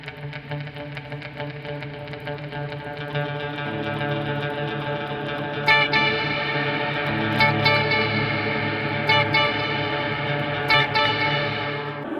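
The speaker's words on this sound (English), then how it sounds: "this is the black hole algorithm" Sustained guitar tones through an Eventide Space reverb pedal's Black Hole algorithm swell into a vast, smeared wash of reverb with shimmering, echoing tails that build and hang in the air.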